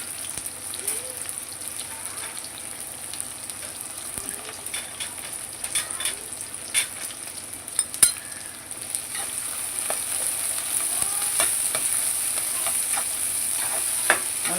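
Small onions sautéing in a pan for a village-style pomfret fish curry give off a soft, continuous crackling sizzle, broken by occasional scraping stirs and sharper pops, growing slightly fuller toward the end.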